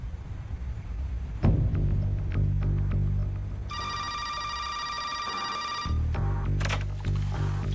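A telephone rings with a steady electronic trill lasting about two seconds, set against a murky, rumbling background with scattered knocks.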